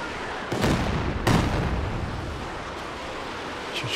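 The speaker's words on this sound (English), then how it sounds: "Barrage here, interrupting the repairs, doing some damage to the Panther." Artillery barrage striking a Panther tank under repair in the strategy game Company of Heroes 2, two heavy booming impacts about a second apart over a constant rumbling battle din, loud and close.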